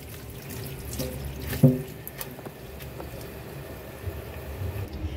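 Pechay leaves are rinsed under a running kitchen tap, a steady close splash of water with a brief louder slosh partway through, and nobody speaks.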